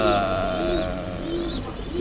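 Soft, low pigeon coos repeat in a steady rhythm close by, over a constant background murmur.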